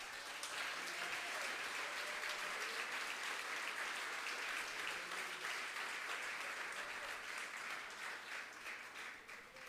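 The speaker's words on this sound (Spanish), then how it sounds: "Yo quiero que usted le dé un aplauso a él." Applause from a church congregation at Sunday school, steady broadband clapping sustained across the whole stretch, moderately distant and fading slightly toward the end.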